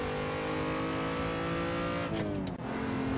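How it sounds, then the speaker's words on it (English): An Austin-Healey six-cylinder engine in the Assetto Corsa racing game drones loudly and steadily under acceleration, its pitch climbing, then a brief gear change and dip before the revs build again. "That lovely 6 cylinders of sound coming from the engine in front of us, out that long bonnet"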